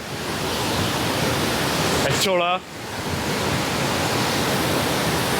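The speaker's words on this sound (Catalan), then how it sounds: "Això és la cascada." A park waterfall makes a steady, loud rushing roar throughout, with someone speaking briefly over it midway.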